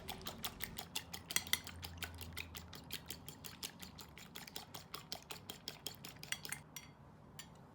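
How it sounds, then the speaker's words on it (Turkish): An egg is whisked briskly in a wide plate, a fork tapping the dish in a steady rapid rhythm of light clinks that continues for several seconds before stopping. "Geniş bir tabağın içinde bir tane yumurtayı çırpıyorum."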